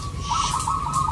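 A perkutut (zebra dove) gives a soft, rhythmic trilling coo, repeated in a steady pattern of short rising notes, close and clear.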